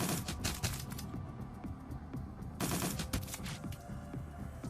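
Rapid full-auto gunfire rattles through a firefight in the tactical RPG Shadowrun: Dragonfall, dense overlapping bursts of sharp cracks with a brief lull midway before another heavy volley, loud and without speech.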